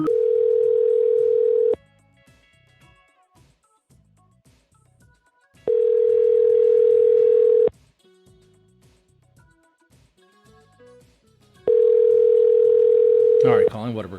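Phone call to a Whataburger restaurant ringing out: three long, steady ring tones in a regular pattern, each about two seconds with quiet gaps between, loud and close, ending as the line clicks or picks up.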